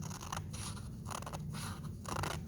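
Scissors snipping paper strips for paper weaving, a series of crisp, close cuts repeating about every half second with a soft scraping between them.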